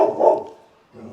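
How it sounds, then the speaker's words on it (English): Several household dogs bark outdoors near an MG TD sports car, one loud burst of barking followed by a quieter second bark after a brief pause. "My dogs are barking at a Marine."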